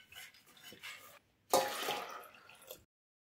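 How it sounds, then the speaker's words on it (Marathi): Sprouted moong beans are washed in water in a home kitchen: a faint pour and sloshing, then a louder burst of splashing and swirling that stops suddenly into silence. "प्रथम कोंब आलेले मूग पाणी घालून धुवून घेऊया।"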